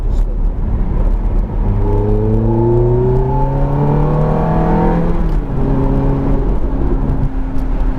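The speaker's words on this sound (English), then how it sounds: "The noises from the exhaust," Ferrari F430 engine and exhaust on a race track, loud and close, rising through the revs in long climbing sweeps with rhythmic gear shifts, then falling back before pulling again, a steady roaring whine throughout with no talking.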